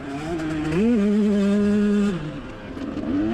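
A KTM 125 two-stroke racing motorcycle screams around a track, its high buzzing engine note rising as it revs hard, holding steady, then dropping off before climbing again, loud and close.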